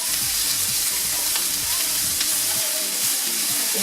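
Fish and tofu pieces frying in a pan, a steady close sizzle and crackle throughout with no talking.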